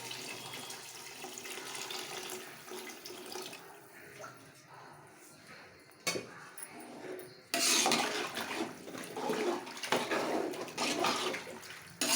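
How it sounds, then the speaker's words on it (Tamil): Water pours from a tap into a cooking pot of chicken biryani in a continuous splashing rush that swells louder partway through and then keeps going. "தேவையான அளவு தண்ணீர் சேர்த்தவும்"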